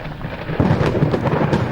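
Thunder rumbles over steady falling rain, a low roll that swells partway through while the rain hisses continuously close by.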